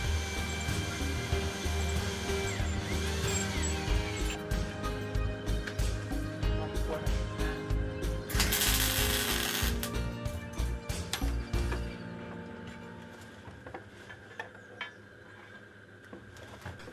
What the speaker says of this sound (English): Now I'm winding the strip of copper which was cut from the cylinder.